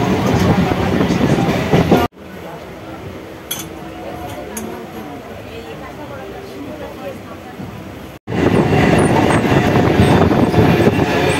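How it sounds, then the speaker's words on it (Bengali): A local passenger train leaving Kanchrapara for Kalyani in West Bengal gives a loud, steady rumble and rattle from inside the carriage. The sound drops briefly twice, and faint voices sit beneath it. "ট্রেন ছেড়ে দিল কাঁচরাপাড়া থেকে, সামনে কল্যাণী"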